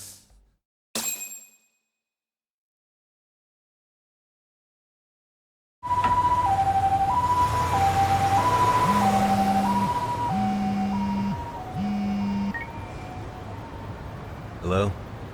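An ambulance siren in the video game Lost Judgment wails in a rising and falling two-tone pattern after a brief sound and several seconds of silence, loud and sustained, with a faint voice or engine rumble beneath.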